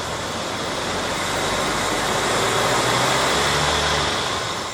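A CJ7 Jeep's 258 inline-six idles steadily after a tune-up, a loud, continuous broadband engine rumble holding even throughout with no talking.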